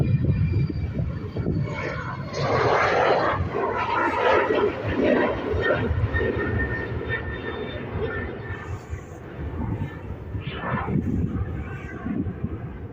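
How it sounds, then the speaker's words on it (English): A British Airways Embraer E190 airliner heading into London City passes with a steady, broad roar that swells and fades slightly over about thirteen seconds, mixed with gusty wind buffeting the microphone. "It is a CJ919, obviously operated by British Airways, heading over to London City, and it's an Embraer E190"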